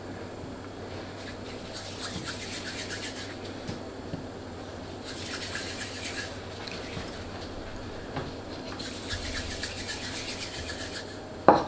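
Soft rubbing and rasping as small gnocchi dough balls are rolled along a ridged paddle, coming in repeated short bursts at close range, with a light tap at the end.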